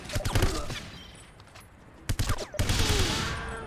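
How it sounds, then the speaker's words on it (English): Enemy gunfire rattles in the 007 Everything or Nothing video game, coming in rapid bursts of shots with a lull in between before a second dense volley. "Getting shot at by people I can't even freaking see, man."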